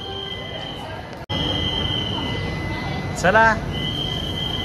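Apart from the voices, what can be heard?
train slowly departing Tirupati railway station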